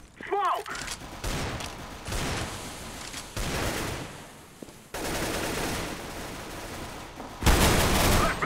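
Gunfire in the video game Counter-Strike on de_cache, including AWP sniper fire, in a semifinal esports match between EnVyUs and G2: bursts of rapid shots and impacts recurring throughout, mixed with game noise.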